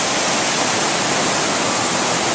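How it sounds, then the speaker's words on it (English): Steady rain keeps falling during a May 2010 flood, a continuous broadband hiss of fairly heavy downpour with no breaks and no voices. "the rain, even though it's continuing to pepper down, it's not near as bad as it was"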